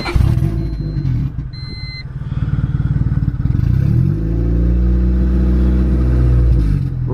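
A Honda engine, recently adjusted to cure a surge at 1500 RPM, cranks, catches and revs up smoothly into a steady, loud, close hum with no talk over it.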